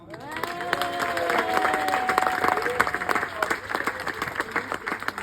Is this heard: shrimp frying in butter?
no